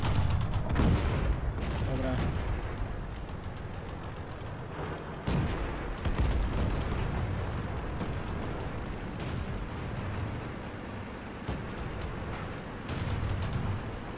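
Tank cannon shots in World of Tanks, booming blasts and rumbling battle noise repeating over the whole stretch, with people talking throughout.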